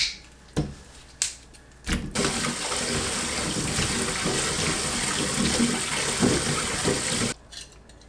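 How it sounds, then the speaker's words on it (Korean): Ginger washed under a running kitchen tap: a few brief handling knocks, then a steady, close rush of water for about five seconds that stops abruptly. "생강을 씻어주세요."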